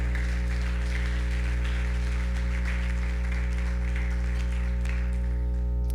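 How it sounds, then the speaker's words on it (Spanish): Church congregation applauding during a Sunday worship service, soft and steady clapping partly masked by a loud, constant low hum throughout. "¿Cuánto le dan un aplauso al Señor por esto?"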